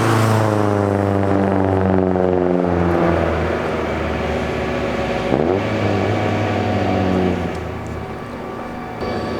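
An unmuffled Honda K24 engine in a Civic idles and revs loudly nearby, its raw drone rising and falling across several throttle changes before settling lower at the end.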